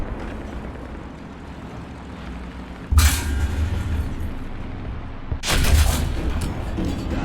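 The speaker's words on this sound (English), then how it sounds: "I'm getting shot from elsewhere now. From front, it would seem." Two sharp, heavy shell impacts strike a Panther F tank in War Thunder, a few seconds apart, each a loud metallic crack over a constant engine rumble.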